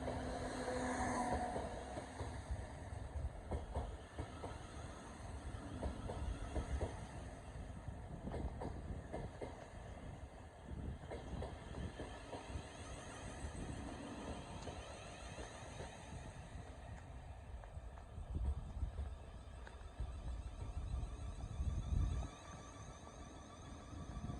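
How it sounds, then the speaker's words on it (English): A Thameslink Class 700 electric train departs Gillingham station on a diverted service, giving a faint, steady rolling rumble with soft rail clicks and a distant hum that persist throughout, with no talk. "here we have departing a 700/042 working the 1306 Thameslink service from Rainham to Gravesend via Strood"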